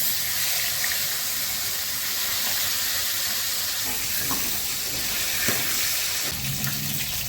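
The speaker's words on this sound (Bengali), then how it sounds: "মাছের মাথাগুলো ভেজে নিচ্ছি" Fish heads fry in mustard oil in a home kitchen with a steady, close sizzle and scattered crackles and pops.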